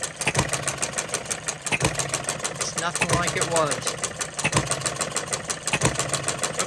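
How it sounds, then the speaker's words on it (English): A Coles one-cylinder engine runs with a steady, shaky rhythmic thumping and regular firing pulses, loud and close, while a person talks over it. "it will have a little shake because it's a one-cylinder engine."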